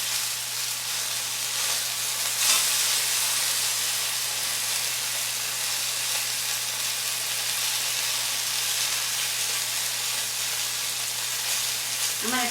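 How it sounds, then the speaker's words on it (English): Butter and oil sizzle steadily in a frying pan, the milk solids in the butter browning and burning, a continuous bright hiss with small crackles that stays even throughout, with no voices over it. "the milk proteins and milk solids in the butter are kind of burning in my pan"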